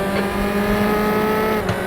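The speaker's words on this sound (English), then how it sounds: "Car approaching. Watch your mirrors." A race car in the RaceRoom Racing Experience sim, F4 and Zonda multiclass at Macau, passes close by: a steady, loud engine drone with a brief surge as it goes past, no talk.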